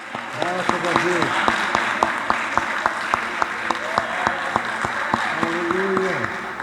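A church congregation applauds during a Portuguese-language worship service, a dense, steady wash of many clapping hands, while a preacher's amplified voice carries over the top.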